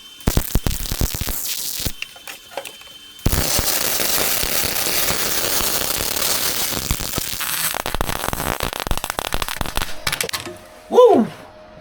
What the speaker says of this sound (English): This welder does that every now and then. Like you let off the trigger and it keeps going.